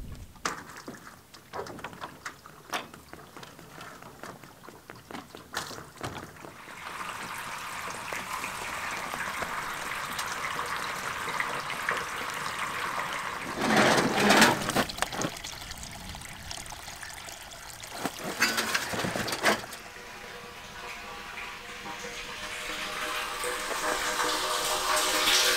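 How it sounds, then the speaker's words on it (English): Rainwater flowing and trickling into an IBC tote rainwater system for a wildlife waterer, a continuous close splashing pour that swells into louder gushes partway through, with no talking. "the water will flow down the hill and then up right next to the IBC tote and eventually fill up the system"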